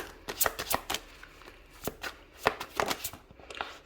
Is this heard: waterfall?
no